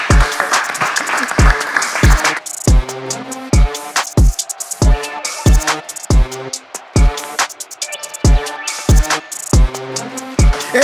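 A crowd claps and cheers loudly and continuously, with sharp rhythmic thumps punching through the applause at a steady beat.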